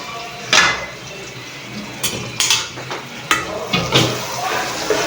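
Spices for a chicken curry get stirred and sautéed in a pan, with a spoon scraping and knocking against the metal in irregular close strokes over a soft background sizzle.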